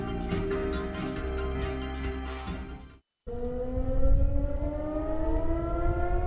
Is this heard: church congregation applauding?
no